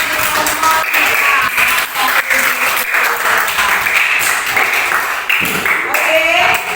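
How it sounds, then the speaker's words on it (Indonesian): Students in a classroom applaud group 3, a steady burst of clapping with voices and chatter mixed in, rising slightly toward the end. "Ya, kita berikan tepuk tangan untuk kelompok 3."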